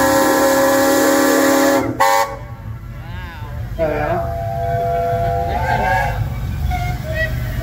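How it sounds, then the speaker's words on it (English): A loud, sustained whistle blast cuts off abruptly, then fainter echoing whistle tones drift back over the next few seconds while a person talks underneath. "Told you it was a good whistle."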